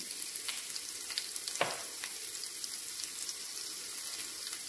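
Potatoes and ground spices frying in oil in a home kitchen pan, giving a steady close sizzle throughout with a few soft clinks of stirring and one brief louder scrape midway.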